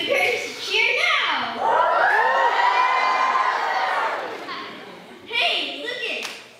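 A crowd of children at a scouting camporee puppet show cheers loudly, long high-pitched shouts and a sustained yell, then a second burst of cheering near the end, with an adult's voice heard briefly.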